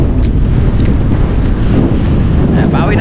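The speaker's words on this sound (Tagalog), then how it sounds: "Grabe ang lakas ng hangin." Strong wind buffets the microphone in a constant low roar, loud and unbroken, with a faint hint of water in the background.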